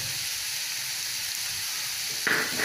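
Onion, vegetables, green chilli and curry leaves sauté in a pan for a raw plantain and dal thoran, giving a steady close hiss of sizzling oil with a brief stirring scrape near the end; no talking.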